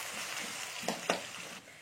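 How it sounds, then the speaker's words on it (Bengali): Onion sizzles steadily in hot oil in a home kitchen pan, a constant close hiss broken by two brief sharp spits or stirring clicks. "পেঁয়াজটাকে আমি একটু ভেজে নেবো"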